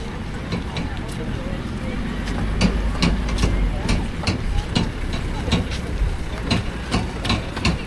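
A tourist train rumbles past nearby at a seaside town with a low steady drone and repeated sharp clacks, while people talk over it.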